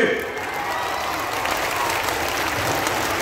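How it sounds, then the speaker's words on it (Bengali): Loud, continuous applause from a large crowd at a Trinamool Congress public rally on the Amdanga Sadhanpur school ground, a dense roar of clapping that holds steady with faint cheering mixed in. "একটা জোরে হাততালি হবে"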